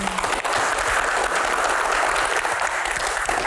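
An audience at a disaster-preparedness Q&A session claps in loud, continuous applause, a dense wash of hand claps with no pauses.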